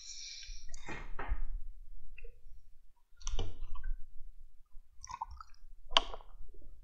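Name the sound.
hammering nails for building center line marking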